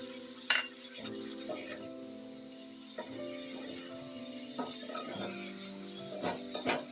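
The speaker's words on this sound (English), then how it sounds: "add 2 or 3 chopped tomato and fry it and cover for a few" Two or three chopped tomatoes frying in a pan for spicy chicken curry, a steady close sizzle running throughout with occasional stirring scrapes and light clinks of a utensil against the pan.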